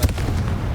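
A Confringo fire spell explodes in the PS5 game Hogwarts Legacy: one sharp, booming blast right at the start, then a dense roaring rumble that fills the short moment.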